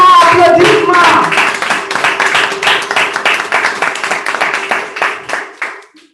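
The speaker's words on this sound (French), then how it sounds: "Sous vos applaudissements, s'il vous plaît. Applaudissements, applaudissements." Members at a French-speaking Toastmasters club meeting clap together in a room. A voice is briefly heard at the start, then a close, fairly loud round of applause follows, its claps growing sparser as it fades out.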